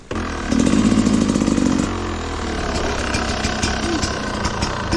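An enduro dirt bike engine revs loudly up close, rising to a strained high pitch, then drops to a rough, uneven idle with brief blips of throttle.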